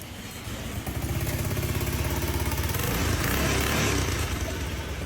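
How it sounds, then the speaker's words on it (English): A Honda motorcycle engine runs steadily with a dense, fast mechanical rumble and light clatter, close and fairly loud throughout, with no talking. "Turn the key on and start the engine."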